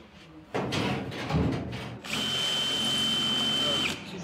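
A power drill boring into a wall that may hide a metal rod, running in two close bursts: a short rough whir, a pause, then a longer steady high whine that stops abruptly.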